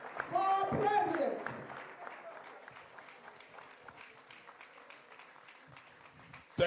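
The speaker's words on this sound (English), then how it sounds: "A round of applause for our president." Applause for the president breaks out at a political rally, with a burst of clapping and crowd noise at the start that fades under a speaker's amplified voice.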